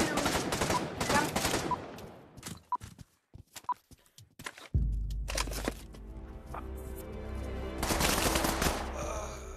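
Gunfire in the VR shooter game Pavlov: loud rapid bursts and scattered sharp shots, clustered at the start and again near the end, with quieter gaps between.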